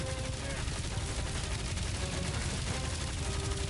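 Rapid gunfire pounding a big bot in Guardians of the Galaxy, a steady loud stream of shots layered over battle noise and characters' voices.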